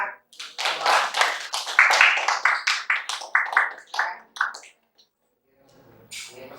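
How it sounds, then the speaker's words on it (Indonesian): A classroom group claps hands in a quick, uneven burst of sharp close slaps lasting several seconds, then stops, followed by a faint scrape. "Semuanya tepuk tangan untuk semangat."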